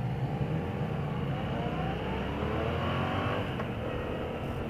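A 2015 Yamaha FZ-07 (MT-07) motorcycle pulls hard in first gear, its engine note rising steadily and loud throughout as it accelerates, with continuous riding noise around it.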